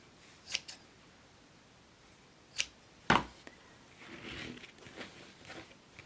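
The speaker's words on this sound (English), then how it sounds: "Grab 3 strips and fold them in half. Cut them at the halfway point." Scissors snip through folded fabric strips while making the arms of a no-sew rag doll: a few short, crisp cuts, close and fairly quiet, separated by pauses, with light handling rustle afterward.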